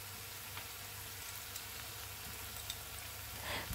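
A vegetarian mixture of noodles, mushrooms, corn and vegetables stir-fries in a pan with a steady, even sizzle and faint occasional stirring clicks, close up and without talk.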